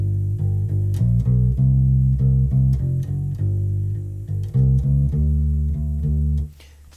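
A U-Bass with rubbery strings plays a slow blues turnaround, a run of deep, round plucked notes with a steady pulse, close and alone, ending on a held note that cuts off.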